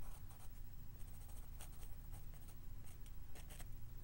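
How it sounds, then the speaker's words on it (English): A pencil scratches steadily on paper while shading a sheep's eye in a watercolor drawing, a close, continuous dry rasp with brief strokes and pauses. "We're going to be adding all the shady pencil marks"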